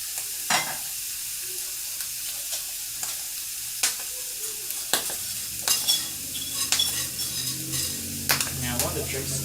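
Eggs for a Denver omelet cooking in a pan, a soft sizzle under repeated scraping and clinking of a utensil stirring against the pan, close and irregular, with quiet background hum.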